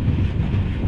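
Vistadome tourist train on the Dooars line between Alipurduar and Chalsa rolling along the track, a steady low rumble with windy roar, close and continuous with no talk.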